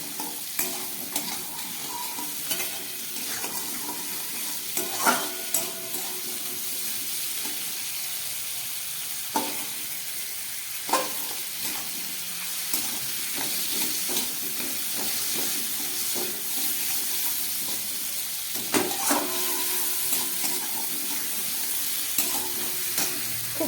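Vegetarian peas ghugni cooking in a pan gives a steady oily sizzle and hiss, broken by intermittent scrapes and clinks of a spoon stirring, with no voices.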